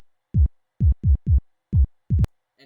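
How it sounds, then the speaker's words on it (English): Six deep FM-synthesized kick drum hits, each a punchy thump with a quickly falling pitch, in an uneven rhythm with short silences between them. "I've got it hooked up to basically what sounds like a kick drum"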